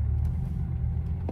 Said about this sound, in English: if you flick this to the left, you do get a loud sports mode and hear the engine of the car